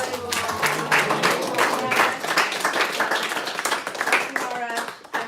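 A lecture audience breaks into enthusiastic applause, with dense, steady clapping and some crowd voices mixed in throughout.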